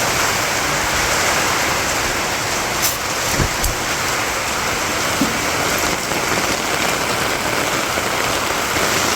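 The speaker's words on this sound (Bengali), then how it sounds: "এখন হইল দুপুরবেলা কি বৃষ্টির অবস্থা" Steady, dense midday rain pouring down in a village, a continuous hiss of drops on surfaces, with a few brief louder clatters partway through.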